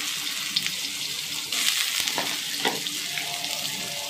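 White and black cumin seeds sizzling in hot oil in a kadai: a steady, bright frying hiss with a few sharp crackles and pops scattered through it.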